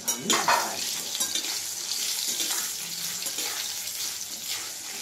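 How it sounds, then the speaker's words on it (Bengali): Taro pieces fry in a pan with a steady hiss of sizzling oil, opening with a brief clatter as the pieces go in, then a continuous close frying sound. "এবারে আমি কচুগুলো ভাজবো। এইভাবে এক একটা আমি ভাজবো।"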